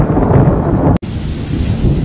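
Heavy rain pours down at night in a loud, close, continuous roar with deep thunder rumbling, broken by a split-second cut of near silence.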